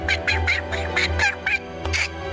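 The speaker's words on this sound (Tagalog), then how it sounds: "Nagsasalitang bibe?" A pet duck named Kwakwak quacks in a quick run of about eight loud, nasal calls, close and clear with no talking over them.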